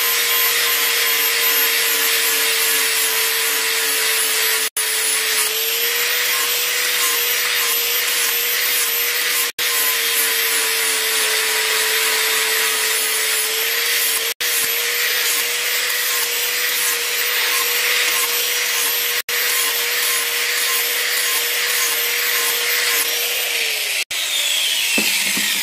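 A power sanding disc drones loudly and steadily against steel, its motor tone holding for a long stretch with a few brief dips, no talking.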